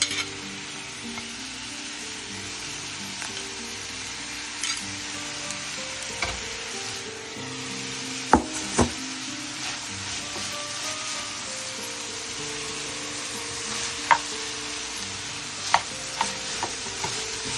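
Ground beef with yellow bell pepper and tomato frying in a pan, giving a steady close sizzle with a few sharp clacks of stirring scattered through it.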